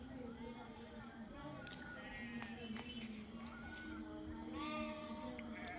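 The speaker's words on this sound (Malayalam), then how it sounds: "പാലക്കാട് കണ്ണാടി എന്ന് പറഞ്ഞ സ്ഥലത്ത് ചെമ്മരി ആടുകൾ നിൽക്കുന്നുണ്ട്" A flock of sheep standing at Kannadi in Palakkad, with several bleats rising over steady outdoor background noise, moderately near.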